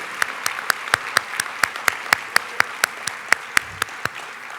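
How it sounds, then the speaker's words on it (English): A rousing round of applause from a seated conference audience, with sharp individual claps standing out in an uneven rhythm over a steady bed of clapping, fairly close and loud. "please join me in giving them a rousing round of applause"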